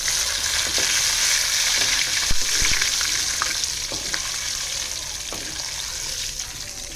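Mustard seeds, curry leaves and spices for gongura chutney crackle and sizzle in hot oil, a continuous close frying hiss broken by sharp pops and a few stirring knocks.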